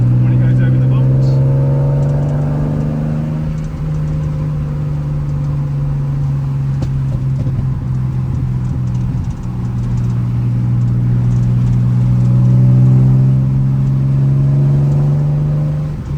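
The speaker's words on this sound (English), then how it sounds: "That's why it pops and crackles a bit more than normal." A TVR T350c with a 4.5-litre engine, fitted with a non-standard exhaust that pops and crackles, drives along with a loud steady drone that rises and falls as it revs, while a person talks over it.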